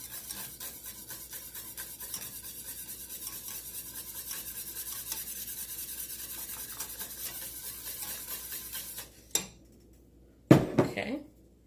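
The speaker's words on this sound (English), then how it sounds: "I actually like to take my whisk and do like this" A whisk clatters steadily against a bowl for about nine seconds while mixing homemade caramel, a busy metallic scraping rhythm, then stops with a couple of brief sharp knocks near the end.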